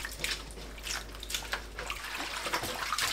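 Water running from a tap into a bowl to soak chamnamul greens with vinegar, a steady close splashing pour with small gurgles and drips, continuous and fairly quiet, no voices.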